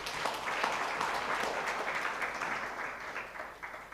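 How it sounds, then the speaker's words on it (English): An audience at a nutrition awards event applauds steadily, a full, even wash of clapping close by that holds for several seconds before tapering slightly. "Please clap for the government."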